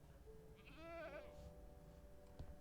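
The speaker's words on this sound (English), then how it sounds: "The goat!" A goat in the Minecraft video game lets out a single short, quavering bleat, faint and close, over a quiet background.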